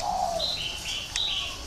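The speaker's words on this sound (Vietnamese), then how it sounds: "Chim cu gáy" A spotted dove gives a short, clear call of a few soft tonal notes, fairly close and alone against a quiet background.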